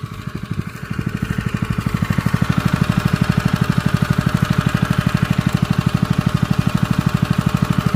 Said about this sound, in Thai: ผมเดินเครื่องไว้เบาๆ นะครับ แบบ ประมาณ 20 นาทีแล้วนะครับ